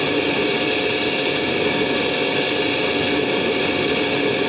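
A pressure water jet washing a Mahindra tractor part, giving a steady, loud, hissing spray that holds unchanged throughout with no talk.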